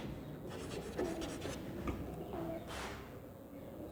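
Chalk or marker writing on a board during a lecture, faint scratchy strokes in short bursts against a low steady background hum, no speech.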